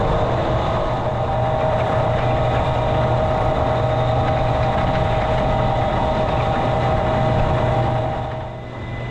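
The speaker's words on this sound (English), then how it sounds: "So right now we're turning on the silo conveyors." Silo conveyors and an 80-foot haylage harvester start up in an old dairy barn, giving a loud, steady mechanical drone with a constant hum and rattling that runs throughout and eases slightly at the end.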